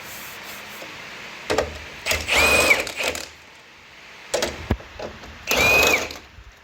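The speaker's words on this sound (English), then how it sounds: "I'll undo these screws." A power tool backs out screws on a Chrysler Valiant AP6 body under rebuild, in two close bursts of whirring with a rising whine, separated by clicks and handling noises.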